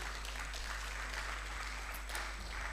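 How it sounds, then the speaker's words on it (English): An audience in a university auditorium claps for performers, a soft, distant, sustained patter of many hands over a low hum. "Let us give them a befitting hand clap."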